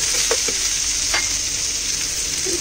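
Vegetables for veg chowmein stir-fried in a pan, a steady close hiss of frying with several sharp scraping stirs from a spatula, no voices.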